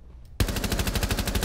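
A rapid burst of automatic gunfire in Rainbow Six Siege starts abruptly and keeps going, with loud, evenly spaced shots at roughly a dozen per second and no talking over them.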